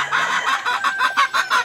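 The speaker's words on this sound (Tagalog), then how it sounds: "Bali Chinese chicken pala yun mga kabay." Chinese breed chickens cluck in a quick series of close, clear, evenly spaced calls, about a dozen short bursts in under two seconds, with no talking over them.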